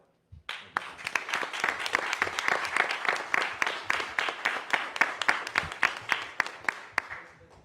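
A burst of applause from a small group at a city council meeting honoring firefighters, sharp distinct claps building quickly, holding steady, then tapering off near the end.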